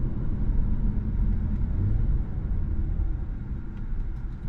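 A 2024 Infiniti Q50 Red Sport 400 drives with its seven-speed automatic, and the engine note stays as a steady low rumble. Shift changes are hard to pick out in the drone. No one speaks.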